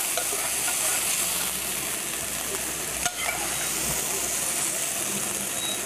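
Sliced capsicum rings sizzling in a pan while being stirred, a steady frying hiss running throughout, with a brief scrape near the middle.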